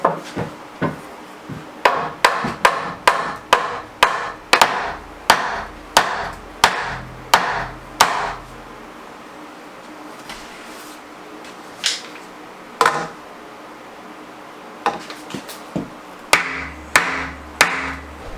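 Hammer blows ring out while basement walls are framed in: a quick run of sharp, evenly spaced strikes on wood, a pause with low background noise, then more scattered hits and short bursts, close and loud with no talking.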